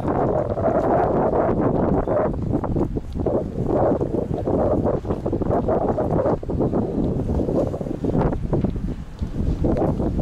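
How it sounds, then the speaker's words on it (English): Wind gusts buffet the microphone steadily during a night walk through Hong Kong streets, a loud continuous rumbling roar with no clear talk over it. "A little bit windy."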